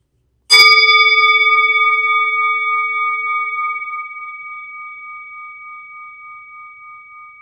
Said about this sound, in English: I'm going to ring the bell to help us enter into our dream.